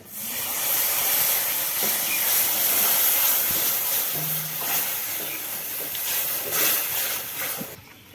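Milk poured into a hot frying pan over fried ingredients while making a homemade pizza, giving a steady, close hiss and sizzle that fills the whole stretch before cutting off at the end.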